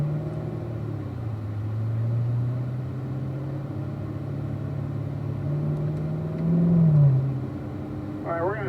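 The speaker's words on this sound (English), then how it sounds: "work your way up through the gears as we head up the hill up to third gear" A Corvette engine on a performance driving school track drones steadily as the car works up through the gears climbing a hill, its pitch holding and then rising briefly near the end, with a voice talking faintly over it.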